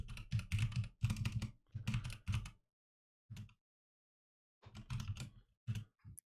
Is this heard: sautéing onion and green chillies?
no